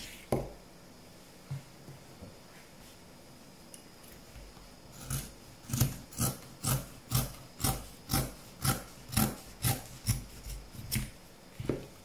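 Scissors snip through fabric to trim a hem, a run of about a dozen regular, crisp cuts close by after a few scattered quieter ones, with no talking.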